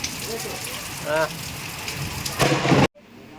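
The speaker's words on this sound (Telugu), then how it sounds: "బయట చూడండి ఫుల్ వాన అసలుకి హాఫ్ అన్ అవర్ ఆకుండా వచ్చిందండి వాన్ అయితే" Heavy rain pours down outside a house as a dense, continuous hiss of falling water, with a couple of brief voices rising over it before the sound cuts out abruptly near the end.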